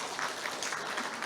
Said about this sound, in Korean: 정혜선 회장님께 큰 박수 부탁드립니다